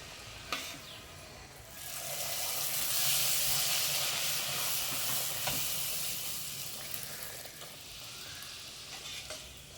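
Puri deep-frying in hot oil, a steady sizzling hiss that swells in the middle, with occasional faint clicks and spatters, no one speaking.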